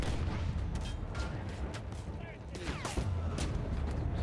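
Rapid bursts of gunfire from a weapon in Battlefield 1, sharp repeated shots and booms in a noisy battle, with a voice talking over them.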